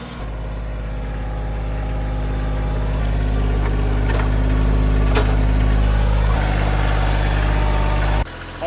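A tractor engine runs steadily and loud throughout a ride, a deep continuous drone with occasional faint clanks, cutting off abruptly near the end.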